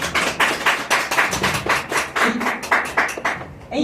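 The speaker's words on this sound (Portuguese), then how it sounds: "toda a nossa salva de palmas para o Pietro Costa." Audience members clap for a Brazilian writer at an honoring ceremony: loud, close, distinct handclaps in a brisk, fairly even rhythm, with no talking.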